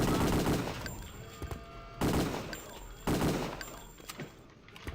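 A Thompson submachine gun in Return to Castle Wolfenstein fires three separate loud bursts, each a dense clatter that starts hard and trails off into echo before the next.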